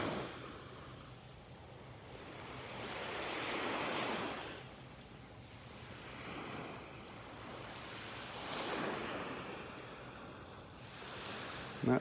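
Gentle Gulf of Mexico waves roll onto a calm North Naples, Florida beach, surging and receding in slow, soft swells with light wind noise and no voices.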